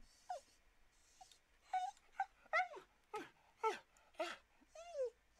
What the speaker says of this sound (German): Das hört sich an wie eine Mischung aus Hundi und Typen, dem es nicht so gut geht.